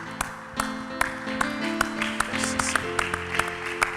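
Congregation in a solemn church convocation clapping together in praise of God, a steady rhythm of claps with sustained musical tones underneath, moderately loud and continuous.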